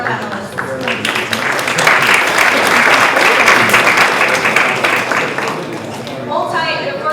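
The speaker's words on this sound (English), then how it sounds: "Let's actually give another big round of applause to all of the startups that worked really hard for the past few months" Loud, dense applause from a large audience at a startup summit, sustained crowd clapping that swells and holds for several seconds before thinning slightly at the end.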